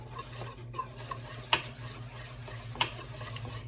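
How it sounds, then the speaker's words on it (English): A spoon stirring cookie batter made with coconut oil in a bowl, soft steady scraping with a couple of sharp clinks against the side, quiet and close with a low hum underneath. "now we're going to mix this together"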